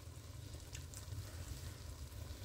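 Rice and fish in red sauce cook on low heat with bay leaf, giving a faint, steady simmering hiss and gentle bubbling, even and continuous with no talking.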